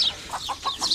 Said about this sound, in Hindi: इधर मुर्गी हम रखे हुए हैं।